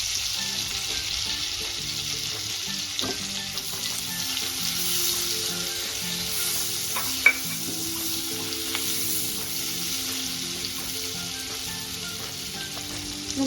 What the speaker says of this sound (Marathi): त्याच्यात लगेच कांदा टाकणार आहोत आपण, एक लांबट चिरलेला,